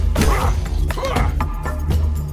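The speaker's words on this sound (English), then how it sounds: "I love just smashing him down in this game." Heavy melee impacts and crashes from the video game Tainted Grail: The Fall of Avalon as an enemy is smashed down, loud thuds and shattering hits in quick succession over game ambience.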